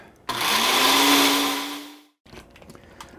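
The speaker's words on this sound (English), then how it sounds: "I'm using a regular household blender because I don't yet have a high-end blender" A regular household blender runs on high, grinding kale, banana and strawberries into a smoothie with a loud whirring motor whose pitch rises as it spins up, then cuts off abruptly, leaving quieter rattling handling sounds.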